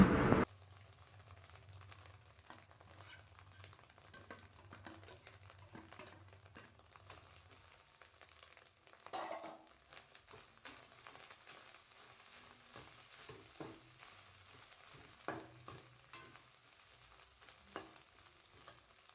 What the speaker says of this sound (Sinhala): බිත්තර එකට ලුණු, ගම්මිරිස් කුඩු උඩින් ඉහාගෙන හොඳින් ෆ්‍රයි කරගන්න.